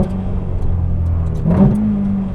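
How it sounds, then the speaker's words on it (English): Ferrari 488 Pista engine, loud and close, with a steady drone that gives way to a sharp rising throttle blip as a gear shift lands midway, then settles into a lower hum. "The blips of those shifts are brilliant."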